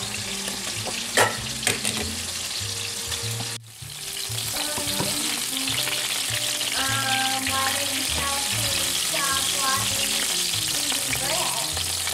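Pork chops sizzle and crackle steadily in a hot pan for Southern pork chops with onion gravy, with a brief clatter as they are flipped partway through and kitchen noise around them.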